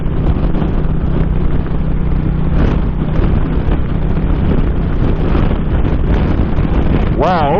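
Heavy gusting wind batters the microphone of a rider on an Indian motorcycle crossing open desert plains, a loud, continuous roar over the engine drone, with a rider's voice briefly breaking through near the end.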